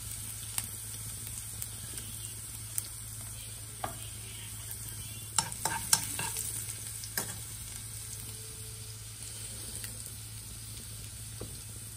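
Curry leaves and asafoetida fry in hot oil for a mango-coconut pickle tempering, giving a steady low sizzle with scattered crackles and pops. A few louder spits come midway. No one speaks.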